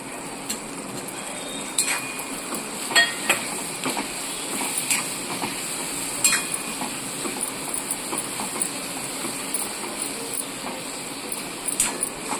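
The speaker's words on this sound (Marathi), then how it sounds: "त्याच्यामध्ये हे पनीर आपल्याला टाकून घ्यायचं आहे" Paneer cubes dropped into a pan with cauliflower and frying: a steady, hissing sizzle with scattered crackles and sharp pops throughout, no voices.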